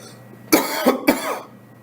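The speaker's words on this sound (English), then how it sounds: "I had a cough." A quick fit of three close, sharp coughs from a lone speaker during a classroom lecture, the first strongest and the others shorter, followed by quiet room tone.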